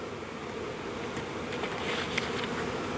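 Honeybees droning steadily in an opened hive after winter, a dense continuous buzz close by with occasional louder passes of individual bees, and no talking.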